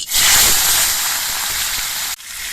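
Pomfret fish frying in hot mustard oil in a kadai give a loud, steady sizzle and hiss close up, with no talk, ending in a brief cut near the finish.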